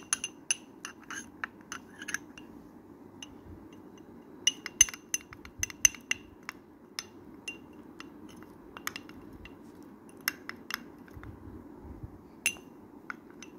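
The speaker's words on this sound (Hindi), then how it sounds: "अब इसको मिक्स करेंगे अच्छे से" A spoon stirs rice flour and maida together in a bowl, giving faint scraping under sharp, scattered clinks against the bowl, quiet and irregular throughout.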